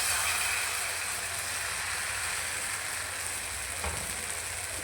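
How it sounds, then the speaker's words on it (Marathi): Jowar flour batter sizzling in oil on a hot pan, a steady close, loud hiss and crackle holding across the whole stretch with no voices. "आणि हे बॅटर हा कडेपासून टाकायला सुरुवात करायची"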